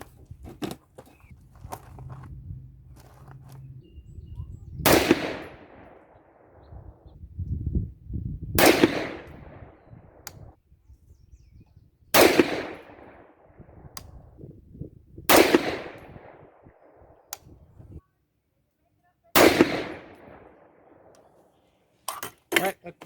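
Rifle shots from a 6.5 Grendel firing 130 ELD Match handloads outdoors on a mildly breezy day: five sharp, loud reports spaced a few seconds apart, each with a decaying tail, with faint handling noise between.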